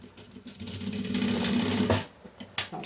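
A sewing machine stitches a simple zippered fabric pouch, a fast close rattling run of needle strokes that builds, holds steady for about a second and a half, then stops, followed by a few light clicks.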